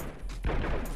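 A single sharp gunshot in the tactical shooter Ground Branch, a sudden loud crack with a short rumbling tail after a quiet lead-in.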